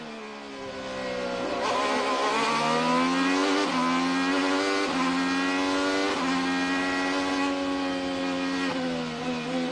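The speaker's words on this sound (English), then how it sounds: "VeeKay, Rahal is racing." IndyCar race cars scream past on the St. Petersburg Grand Prix street circuit, their high engines rising and shifting in repeated upshift sweeps, loud and continuous with no talk over them.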